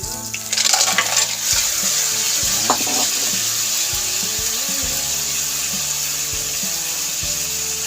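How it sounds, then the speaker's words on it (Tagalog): Fresh mussels (tahong), about a kilo, are tipped into a pan of browning sautéed aromatics for ginisang tahong and stirred, giving steady close sizzling with clattering shells and scraping that continues throughout, no talk. "Then we'll add our 1 kilo of tahong."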